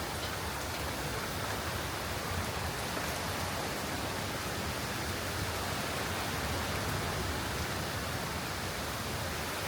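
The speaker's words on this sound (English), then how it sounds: "You know who's really probably liking this rain?" Rain falling on a farm, a dense, unbroken hiss of steady even loudness that holds throughout with no voices.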